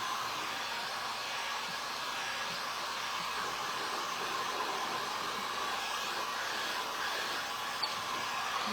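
A hair dryer blowing steadily at close range to dry sealer on a clear acrylic beach tray, a constant even whoosh that holds unchanged the whole time.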